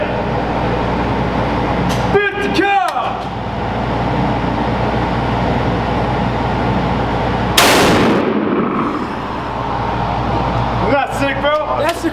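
A real SAW machine gun fires at an outdoor shooting range, heard as one loud, sharp burst with a quick fade. People talk before and after it, with steady background noise throughout.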